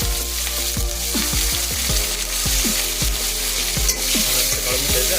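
Mustard seeds, dried chilies, bay leaf and onion fry in hot oil for a crab curry, a loud continuous sizzle dotted with repeated spoon scrapes and stirring knocks against the pan.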